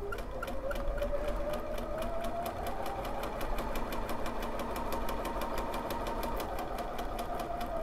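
A long-arm sewing machine runs steadily, couching darker blue thread in freehand frame embroidery of a flower's outer edge; a continuous close motor whir with rapid needle ticking and a slowly shifting pitch.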